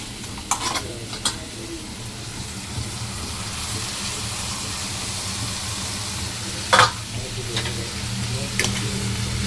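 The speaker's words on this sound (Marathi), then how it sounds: "आणि आता ह्याच्यामध्ये ही भाजी साफ करून ठेवलेली ती टाकते." Vegetables tipped into an onion-tomato masala with cumin, curry leaves and green chilli, then stirred in a frying pan: a steady sizzle runs throughout, with a few sharp utensil clinks scraping against the pan.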